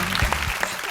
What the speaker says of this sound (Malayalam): സൂപ്പർ കൈയടി കൊടുക്കണം